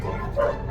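Dogs at a kennel home bark and yelp in a noisy, overlapping burst, loud and close, with one sharper yip standing out midway.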